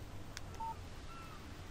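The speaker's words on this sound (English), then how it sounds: "Text message from Barry." A short electronic phone alert tone from a mobile phone in the Alan Wake video game sounds faintly over a low background hum.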